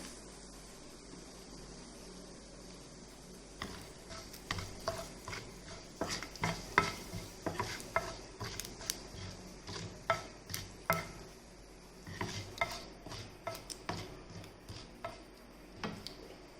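Mustard seeds, jeera and turmeric sizzling in hot oil in a pan, with a steady low hiss broken by scattered sharp pops and crackles that thicken in the middle and toward the end, close and fairly quiet with no talking.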